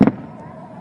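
A single sharp explosion bursts in the sky above Tel Aviv port during a rocket attack, a loud short double crack that fades quickly into a dull rumbling echo.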